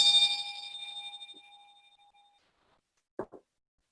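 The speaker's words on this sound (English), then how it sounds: "I ring that bell and I have it with me" A small bell rings once with a clear, bright tone that slowly fades away, followed by two soft taps near the end.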